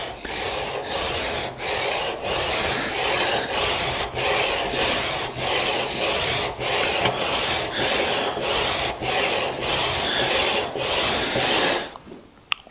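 A wood chisel blade is rubbed back and forth on sandpaper in steady, even strokes, about one per second. The rasping is close and continuous, with no talk.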